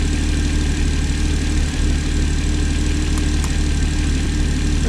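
A Porsche sports car engine idles steadily and close by while the sports exhaust button is pressed. Its low, even drone continues without any change in tone or loudness.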